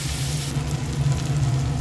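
Onions frying over hilsa fish in a pan, a Barishal-style hilsa dish, with a steady close sizzle that eases slightly after the first half second and carries on to the end, with no talk.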